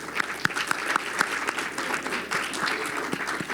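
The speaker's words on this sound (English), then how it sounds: "Let's give them all a round of applause," Audience applauding at a Philippine AI technology conference, a steady burst of clapping with sharp individual claps standing out over a dense crowd wash, fairly close and continuous for several seconds.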